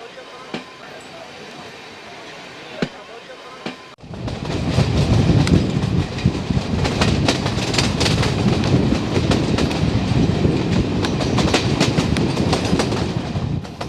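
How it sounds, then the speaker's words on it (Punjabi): A moving pilgrim passenger train, quiet at first, then a loud rolling rumble with rhythmic clickety-clack of wheels on rails that stays steady and close inside the carriage. "ਪੁਲਾਂਘਾਂ ਭਰ ਰਹੀ ਯਾਤਰੂ ਟ੍ਰੇਨ"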